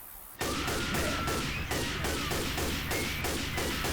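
Rapid repeated gunfire in Left 4 Dead 2, a steady stream of loud shots after a brief quiet start, with game noise underneath.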